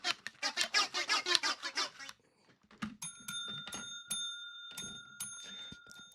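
A small desk bell gives a few bright rings with long sustained tones, following a stretch of talk and then ringing out alone with light handling noise between strikes.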